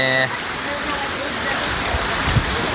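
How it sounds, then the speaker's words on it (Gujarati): Heavy rain falls after a whole night of downpour in Banaskantha, a dense, loud, continuous hiss of drops on surfaces that is close and steady from start to finish. "આપણે આખી રાતનો વરસાદ ચાલુ છે"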